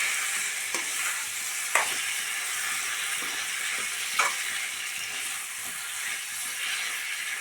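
Boiled salted plantain and meat with masala being stirred in a pan gives a continuous sizzling hiss, with a few sharp scrapes of the spoon against the pan.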